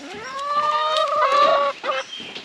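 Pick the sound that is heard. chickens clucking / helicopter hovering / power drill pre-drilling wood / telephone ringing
chickens clucking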